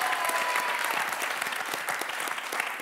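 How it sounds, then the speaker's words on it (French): Audience applause at a family singing game show, dense steady clapping filling the room from start to end at an even, loud level. "On les applaudit très très fort."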